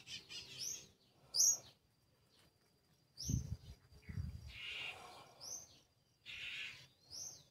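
Birds chirping and tweeting in short bursts, fairly close, with a few soft thumps in between and no talking.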